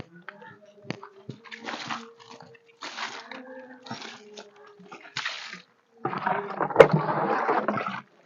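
Water splashes and sloshes in bursts as an animal is rinsed after a shampoo bath, with a voice talking over the washing nearby.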